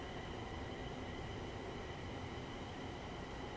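A passenger train on the West Coast Main Line in Train Sim World 6 rumbles steadily from inside the carriage, a constant low hum and track roar with no talking.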